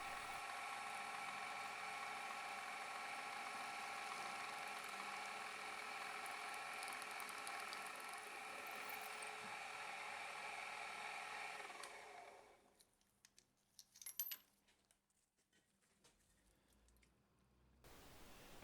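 A milling machine drills through two stacked metal pieces with a tapping-size drill, a steady high whine with a grinding edge that runs for about twelve seconds, then stops, followed by light clinks and handling noises.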